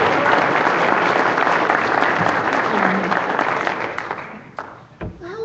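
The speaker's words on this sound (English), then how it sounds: "Let's give JoAnn a round of applause for what she's going to tell us." An audience claps for speaker JoAnn Fleming at a grassroots gathering, dense steady applause that fades out over a few seconds before a few scattered claps and a voice take over.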